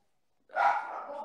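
A dog gives a single short bark that cuts in after a moment of silence, fairly close and clear, with no talk over it.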